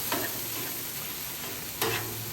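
Beef pasta in sauce being stirred on a Blackstone griddle, a soft steady sizzle with two brief scraping strokes of a spatula, near and fairly quiet, with no talking.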